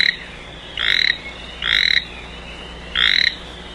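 Toads croak in an anime summoning scene from Naruto, three loud, evenly spaced bursts of rasping calls over a quiet, steady background hum.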